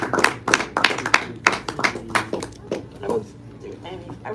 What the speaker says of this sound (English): So a big round of applause for this gentleman here, Jay Ponti.